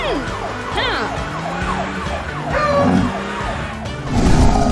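Cartoon ambulance siren wailing in repeated sweeping tones over a rumbling engine, loud and continuous, with cartoon noise and a brief voice mixed in.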